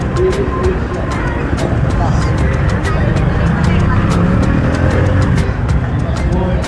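Loud, steady engine roar and rushing wind from riding on a motorcycle along a road in Nabunturan, continuous and close throughout.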